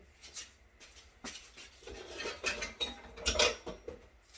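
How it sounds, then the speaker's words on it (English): Rubber spatula scraping buttercream frosting down the sides of a mixing bowl, a series of close, soft scrapes and clinks in irregular bursts with no talking. "You just scrape down the sides because, as you know, everything loves to stick to the bowl."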